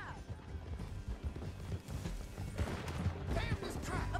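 Rhythmic clip-clop of galloping hooves builds steadily, with a horse snorting and background commotion; the hoofbeats grow louder toward the end, in the video game Red Dead Redemption 2.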